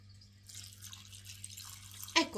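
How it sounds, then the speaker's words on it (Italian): Water pouring from a tap into a Thermomix pot of chopped carrots, courgettes, chard, broccoli and potatoes for a traditional minestrone, a soft steady hiss with a louder splash near the end. "Andiamo ad aggiungere acqua fino ad arrivare"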